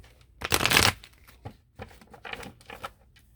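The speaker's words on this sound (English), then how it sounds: "Let's pull a Lover's Oracle card." Oracle cards from a Lover's Oracle deck are shuffled close by in quick riffling bursts, one long loud flurry followed by several shorter softer ones.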